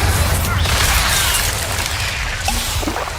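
Spell effects from Hogwarts Legacy, the video game: a dense, continuous wash of blasts, whooshes and crackling impacts fills the whole stretch, loud and busy, with fiery bursts and booms overlapping one another.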